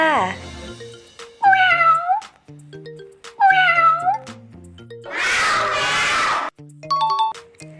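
A cat gives several distinct, rising meows spaced a couple of seconds apart, then one long, harsh yowl. A light, tinkling melody of chime-like notes plays underneath.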